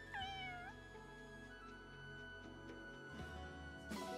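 A cat meows in the video game Fire Emblem Engage, one bright rising-and-falling meow near the start over steady game music, with a softer sound at the end.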